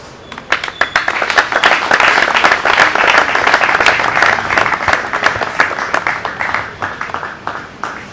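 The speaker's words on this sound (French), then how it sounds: "je vous prie de me vouloir acclamer" A political rally crowd breaks into loud, sustained applause, with dense clapping building quickly and holding strong to the end.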